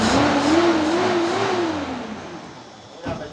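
Toyota Land Cruiser engine idling steadily after a cylinder head gasket replacement, a smooth continuous drone with a faint gliding tone that fades slightly toward the end, close by and with no talk.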